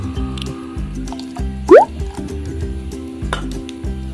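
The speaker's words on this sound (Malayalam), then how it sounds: "സാധാ വാട്ടർ ഒഴിക്കാം" Plain water is poured into a plastic bottle, giving a string of wet drips, plops and filling gurgles close by over a steady rhythmic backing, with no voices.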